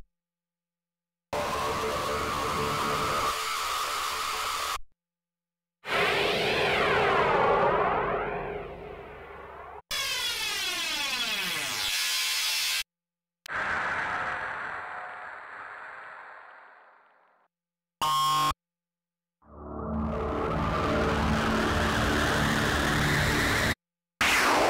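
Screamers patches from the Euphoria sample library produce a string of loud, harsh synthetic blasts, each a few seconds long, with warbling and sweeping pitches and noisy roars, cut apart by short silences.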